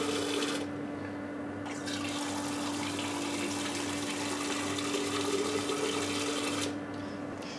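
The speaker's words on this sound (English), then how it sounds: "We add 1 litre of water from our mains programmable water dispenser into each of the pots" Steady rush of running water from a programmable mains water dispenser filling pots with 1 litre each, continuous and fairly loud throughout, with a low mechanical hum underneath.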